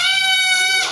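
A high, strained bleat from a human voice imitating a small young goat, one sustained wavering cry, close and loud.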